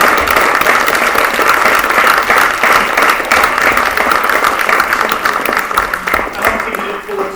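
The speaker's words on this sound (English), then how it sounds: "let's have one more big round of applause for everyone who's won tonight." A town meeting audience gives loud, sustained applause for award winners, a dense wash of clapping that thins slightly toward the end.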